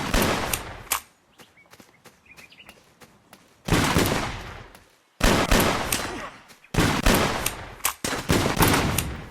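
Gunfire in the mobile battle royale game Battleland Royale: sharp shot bursts and rapid volleys crack loudly in several clusters, separated by short quiet gaps.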